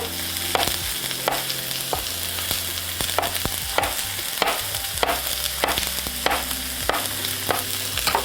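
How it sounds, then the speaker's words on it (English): Thinly sliced mushroom caps frying with onions in a single pot, a constant close sizzle with repeated stirring scrapes and taps of a utensil throughout. "They go right with the onions. And we're having quick stir now."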